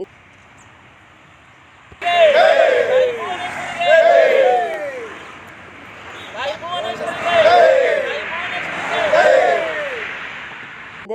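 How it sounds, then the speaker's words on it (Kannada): A crowd of people at a local gathering shouts repeated hails to the goddess Bhuvaneshwari, four loud chanted bursts with pauses between them, following a quiet start. "ನಂತರ ತಾಯಿ ಭುವನೇಶ್ವರಿಗೆ ಜೈಕಾರ ಕೂಗಿದ್ರು"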